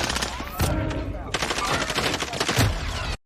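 Rapid bursts of Cold War-era AK gunfire in Call of Duty on the Alcatraz map, loud and close, with a brief pause between sustained volleys of automatic shots.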